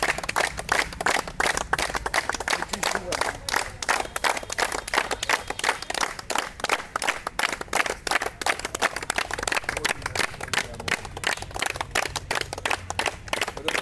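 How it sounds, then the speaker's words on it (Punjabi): An audience at a morning welfare club gathering in Kotkapura claps steadily, a dense run of sharp, fairly loud claps lasting the whole stretch without any talk over it. "ਸਾਰੇ ਤਾੜੀ ਮਾਰ ਦਿਓ"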